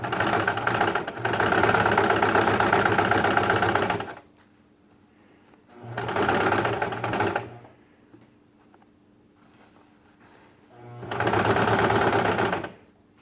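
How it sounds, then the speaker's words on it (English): A sewing machine runs a single straight stitch through heavy pleated fabric on a cosplay skirt, in three loud, steady bursts of about four, two and two seconds separated by quiet pauses. "So I'm just doing a single straight stitch."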